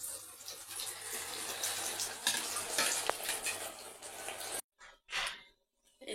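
Hot oil poured onto dal hisses and sizzles as a broad, crackling spatter for several seconds, then breaks off into a couple of short fading bursts.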